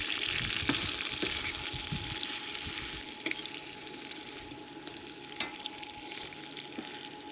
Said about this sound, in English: from the sauce, you have to kind of fry them up a little bit to get the taste